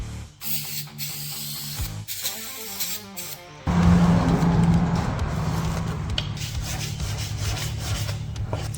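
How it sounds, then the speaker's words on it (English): Light sanding on the seal surface of a Ford Falcon AU/BA ute rear axle, a steady abrasive rubbing hiss that starts after some scraping and handling noises, close and continuous. "we're going to give this part here where the seal sits light sanding"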